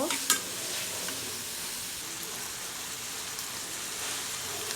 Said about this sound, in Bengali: চিংড়ি মাছ দিয়ে আবার ভালো করে একটু নেড়ে চেড়ে কষিয়ে নেব।